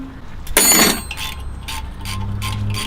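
A ratchet wrench loosens a nut on a coilover bolt outdoors in freezing cold. One loud, close burst of ratcheting is followed by several shorter clicking runs.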